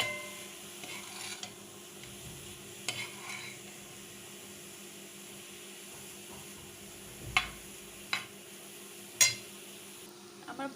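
Grated carrots for halwa cook slowly on low heat, giving a soft steady sizzle. A spoon clinks and scrapes the pan now and then, with a few sharper knocks near the end.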